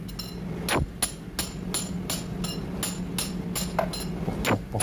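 Metal hammer strikes drive a valve guide out of a generator cylinder head, sharp clanging blows landing at an irregular, steady pace in a workshop with a constant background hum.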